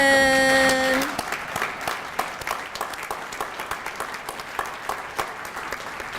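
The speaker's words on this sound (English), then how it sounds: "Round of applause, Richard Honan." A dinner audience at a chamber of commerce awards night breaks into a steady round of clapping after a brief musical tone, the applause staying fairly even and moderately loud to the end.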